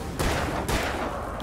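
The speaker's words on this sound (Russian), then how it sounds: "Зачем я опять стреляю из револьвера" Two loud revolver shots fired in the video game Alan Wake, during the DLC The Writer, about half a second apart, each with a sharp crack and a rumbling tail.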